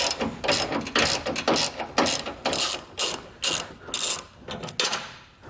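A ratchet wrench removing 18mm bumper bolts on a 2018 Chevrolet Silverado, clicking loudly and close in a steady series of quick back-and-forth strokes.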